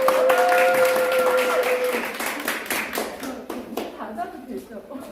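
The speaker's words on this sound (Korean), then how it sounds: "뜨겁게 박수해 주십시오." An audience claps warmly for a professor introduced before a lecture, a dense burst of hand clapping that starts full and gradually thins, with a voice speaking over it.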